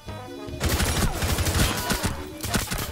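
Rainbow Six Siege gunfire: a loud, dense burst of rapid shots for about two seconds after a short quiet lead-in, with a brief pause and a final flurry, mixed with a voice.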